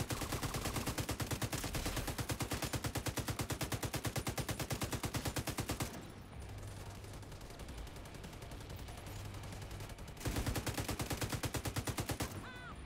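Rapid automatic gunfire in The Division 2, loud continuous bursts of shots for about six seconds, a quieter stretch of muffled in-game sound, then another sustained burst near the end.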